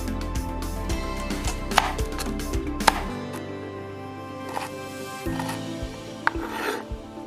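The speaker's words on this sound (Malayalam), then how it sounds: "ഞാനിവിടെ അപ്പം ബീൻസിനെയും ക്യാരറ്റിനും ഒക്കെ നല്ല മൊഞ്ചായിട്ടൊന്ന് കട്ട് ചെയ്തെടുത്തിട്ടുണ്ട്." Knife chopping green beans and carrots on a board for vegetable Maggi noodles, a steady run of close, sharp cuts with dull thuds over a low background hum, no talking.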